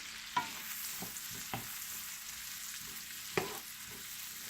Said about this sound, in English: So we're going to saute this just until the onions are translucent.